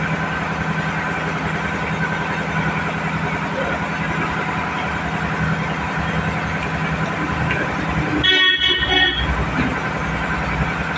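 Road traffic with cars passing and a generator running nearby: a constant engine rumble and hum, with a brief horn-like blast near the end, loud and close.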